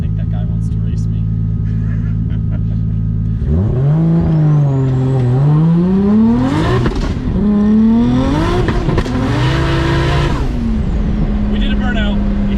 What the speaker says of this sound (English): We did a burnout.